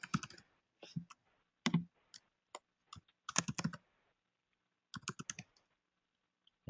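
Quiet computer keyboard typing of a name in an office software demo, short clusters of crisp key clicks separated by silent gaps, close and soft, no voices.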